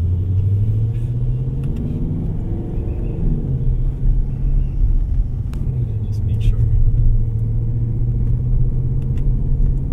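A Ford Mustang GT in track mode gives a deep, steady low engine rumble with slight pitch swells, heard from inside the car while driving.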